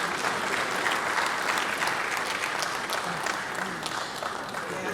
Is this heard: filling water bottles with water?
no